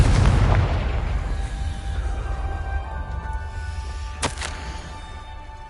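A Confringo spell in the Hogwarts Legacy video game goes off as one loud, booming blast at the start, then rings and rumbles away over a steady low drone, with a brief sharp burst near the end.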